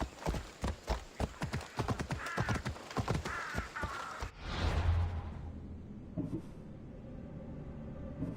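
Horse hooves clip-clop at a rapid gallop in Assassin's Creed Odyssey, loud and rhythmic for about four seconds, with crow caws overhead, then the hoofbeats give way to a softer whooshing ambience.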